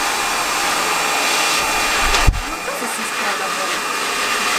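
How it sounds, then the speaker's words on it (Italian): A hair dryer blows continuously at close range, a loud steady whooshing drone with a brief bump partway through as it is handled. "Io provo con il phon."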